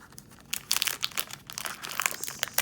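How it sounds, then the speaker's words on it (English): Plastic packaging on a budget planner crinkles and crackles in short irregular bursts, close and fairly quiet, with no voice over it. "Sorry for the crinkling again."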